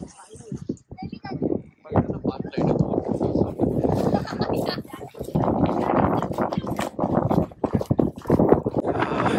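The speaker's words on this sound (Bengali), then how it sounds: "এখানে কনকনে হাওয়া দিচ্ছে, হাত পা জমে যাচ্ছে" Cold wind buffets the microphone on a volcanic-rock beach in Iceland, a rough, gusty roar that rises and falls beneath almost continuous close talking.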